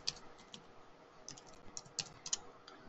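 Keys tapping on a computer keyboard, a scattered run of quick, light clicks in irregular bursts, close and fairly quiet against a low background hiss.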